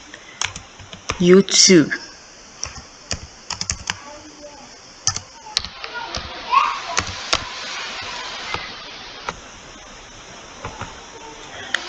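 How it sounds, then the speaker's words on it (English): Computer keyboard typing while making a Canva thumbnail, a run of quick, light key clicks in uneven bursts, close and fairly faint, with a voice talking at times and other faint background sounds. "So I'm going to type in"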